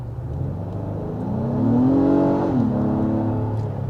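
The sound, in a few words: 2022 Acura MDX engine revving in sport mode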